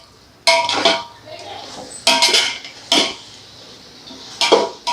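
A metal spoon stirs and tosses chicken curry masala in a pan, producing a few loud, sharp clanks and scrapes in separate bursts with quiet gaps between them.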